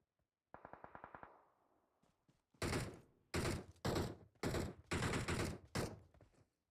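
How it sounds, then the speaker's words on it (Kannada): Gunfire in the PUBG battle royale game on the Livik map: several loud bursts of automatic fire in quick clusters, preceded by a lighter rapid rattling, with gaps between volleys. "ಇದು ಗನ್ ಹೊಡ್ತೀನಿ ಗನ್ ಹೊಡಕ್ಕಿದ್ದು."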